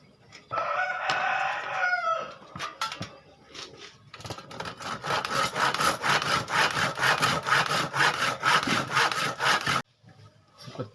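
Hand saw cutting through wood to make refrigerator legs, a steady rapid back-and-forth rasp for several seconds, close and loud, after a brief rooster crow in the background.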